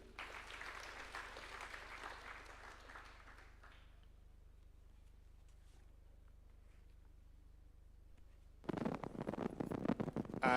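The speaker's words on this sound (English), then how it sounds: "A round of applause for him." Applause rises from the audience at a judges' swearing-in ceremony at State House, Nairobi, a steady wash of clapping that thins and fades out over a few seconds, then quiet before a louder burst of noise at the end.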